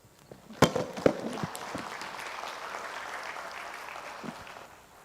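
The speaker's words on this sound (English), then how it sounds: "let's hear a bigger and bigger applause" An audience at a corporate conference event applauds, a few sharp claps at the start giving way to a steady moderate patter of clapping that fades out near the end.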